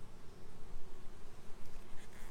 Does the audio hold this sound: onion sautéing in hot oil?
no